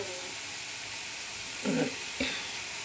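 Mixed vegetables (panch mishali tarkari) sizzling in a pan, a steady low hiss with two short bursts of stirring or spattering near the end.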